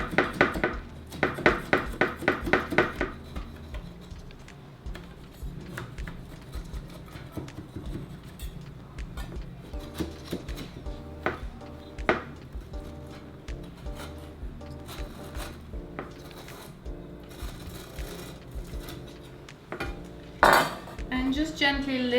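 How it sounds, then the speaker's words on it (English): A metal knife scrapes and clinks against the edge of a cake pan holding a cooled Karpatka cake, with repeated light metallic taps and scratches, a louder clatter of handling near the start and another near the end. "Take a sharp knife and just go around the edges"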